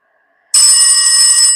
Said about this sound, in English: Okay, you heard that bell.